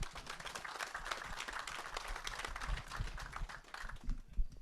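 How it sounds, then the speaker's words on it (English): Applause for a speaker at a Hopson Angus cattle event in Crescent, Oklahoma, a small crowd clapping in a close, busy patter for about four seconds, fading slightly at the very end. "let's give him a big round of applause"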